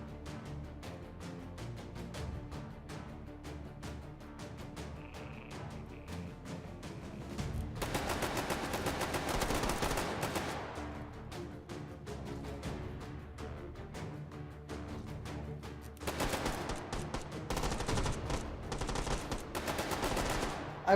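Rapid gunfire in the VR shooter H3VR, with dense bursts of shots crackling close and loud, especially intense around the middle and near the end, over a steady backdrop of game noise.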